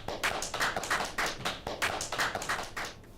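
Clapping for two newly named senior account managers at an office, a handful of hands beating out a quick, fairly even rhythm of close claps for a few seconds.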